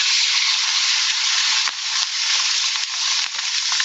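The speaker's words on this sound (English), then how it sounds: "I'm just taking the fish, laying it directly in the pan." Fish skin side down in a hot skillet gives a loud, steady hiss of frying oil, close and continuous with a few small pops and no voices.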